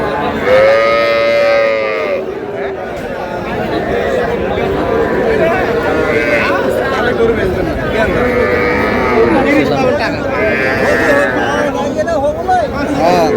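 Young bulls moo repeatedly in long, low calls at a cattle market in Faridpur, several animals near and far, over a steady background of crowd chatter and voices.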